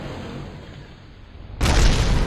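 A loud explosion bursts in suddenly after a quieter low rumbling stretch in the space-flight game Kerbal Space Program, with broadband blasting sustained to the end.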